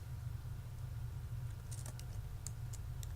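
A spare part name typed on a computer keyboard, heard as a few faint, sparse key clicks over a steady low electrical hum.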